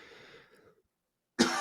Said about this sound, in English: my cough demon